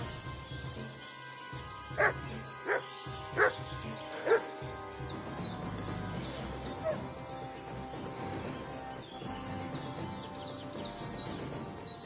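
A dog in Kingdom Come Deliverance 2 barks several times in loud, spaced bursts early on, then keeps up fainter yips and whimpers against a backdrop of birdsong.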